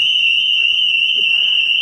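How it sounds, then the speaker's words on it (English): A car's warning beeper sounds a loud, continuous high-pitched electronic tone, piercing and steady throughout with no pauses. "This car beeps non-stop. I've not heard anything like it."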